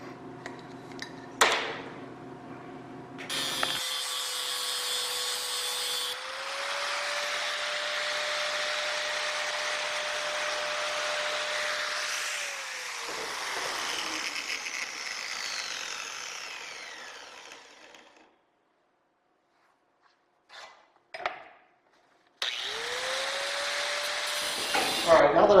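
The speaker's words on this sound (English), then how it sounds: "I'll take it over and take the grinder to it." A grinder works a steel tube for the landing gear leg of a Bearhawk experimental airplane. It gives a loud, steady whining grind up close, pitch sliding as the load shifts, then stops briefly before a second pass, with talk at moments.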